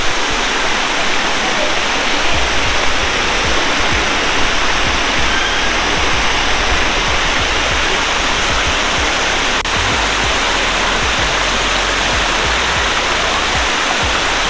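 Temple Falls at Nagalapuram roars as a steady, loud, unbroken rush of falling water, heard close by with faint crowd noise mixed in.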